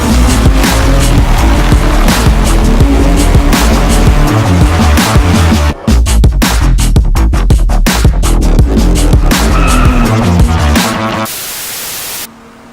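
Volkswagen GTI Design Vision hatchback driving in the racing game Driveclub, a loud, continuous engine drone with engine and road noise throughout, then a brief break and an abrupt drop to a hiss near the end.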